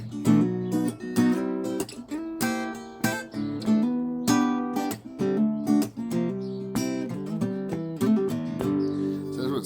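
Acoustic guitar in standard tuning playing a song, close and clear. Rhythmic strummed chords come with short muted pauses and melodic picking in between, steady across the whole passage with no talking.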